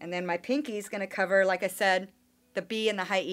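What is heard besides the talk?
No everyday noise stands out behind the speech.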